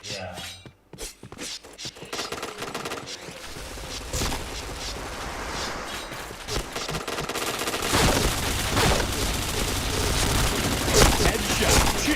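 Rapid bursts of gunfire from a shooter video game, with automatic fire and single shots coming in uneven clusters, loud and close, growing busier toward the end, with a player talking over it.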